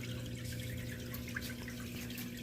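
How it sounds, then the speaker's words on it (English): Aquarium filter water splashing steadily into the overflow section of a 50 gallon tank, a continuous close trickle with a constant low hum and no talk. "I put this filter pad right there, and it seems to kind of like divert all the splashing down into the overflow section"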